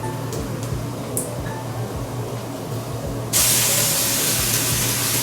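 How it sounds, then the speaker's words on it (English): Tuna sautéing in a pan with translucent onion and browning garlic, a steady frying sizzle that suddenly swells into a louder, brighter hiss partway through, continuing close and strong. "And you want to saute this until it is somewhat crispy or dry."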